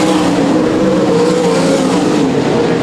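Limited sprint car race engines roar continuously on a dirt track, a loud, sustained howl with the number 47 car wound right up and the field running close together throughout.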